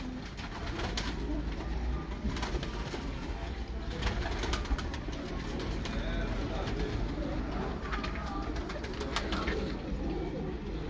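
Breeder pigeons coo softly and continuously in a loft, several birds overlapping at a low, steady level, with faint rustling and background murmur.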